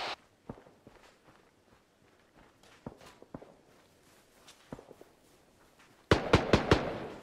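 Gunfire in the military shooter Arma 3: scattered sharp shots crack at irregular intervals at moderate distance, then a dense loud burst of rapid fire erupts near the end.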